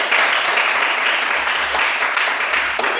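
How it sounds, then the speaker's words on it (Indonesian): Applause for a group after a presentation fills the whole stretch with a dense, steady patter of many clapping hands, fairly close and loud, with no voices over it. "Beri aplaus kepada kelompok."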